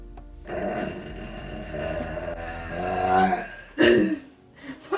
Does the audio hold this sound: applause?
no